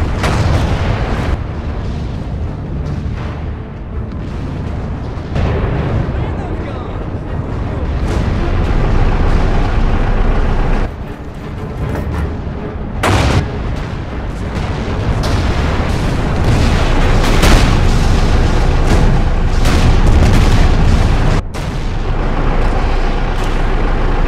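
Artillery fire in the World War II strategy game Order of War pounds away in loud, repeated deep booms and explosions, layered with battle noise and rumbling over the whole stretch.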